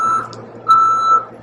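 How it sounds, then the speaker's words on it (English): Reversing beeps from a car backing up outside: a steady electronic tone that pulses and holds, loud and fairly close over a low background hum. "I'm sorry about that loud beeping outside. That's a car trying to back up."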